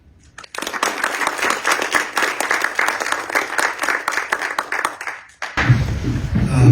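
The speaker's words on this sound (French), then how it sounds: "je vais vous demander de l'applaudir" An audience in Monaco's National Council chamber applauds, a sustained burst of many hands clapping for about five seconds before it breaks off and a voice begins speaking.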